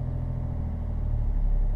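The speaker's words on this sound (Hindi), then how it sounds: "ये देखो मैं रेस कर रहा हूँ, क्लच रिलीज बाइटिंग पॉइंट तक" Car engine revving steadily in a low rumble while the clutch is eased to the biting point during a hill start in traffic, close and continuous with no talk.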